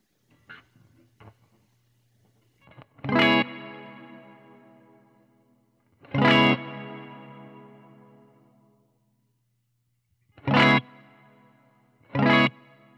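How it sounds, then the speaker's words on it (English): Electric guitar played through an Earthquaker Dispatch Master delay and reverb pedal: four strummed chords with long washy tails and repeating echoes, loud and alone, preceded by a few soft picked notes. "I think it's a way to decide how much reverb you've got with your delay"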